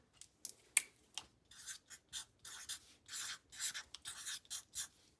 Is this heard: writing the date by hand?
yes